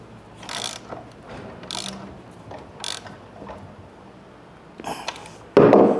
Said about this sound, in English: Now I'm going to tighten the axle up.